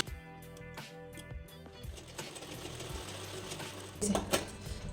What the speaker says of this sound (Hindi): अब हम यहाँ पर सिलाई कर देंगे।